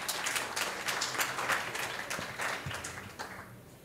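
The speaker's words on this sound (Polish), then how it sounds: "jeszcze raz brawa." Studio audience at a live talk-show interview gives a round of applause, sharp overlapping claps at moderate volume that gradually taper off toward the end.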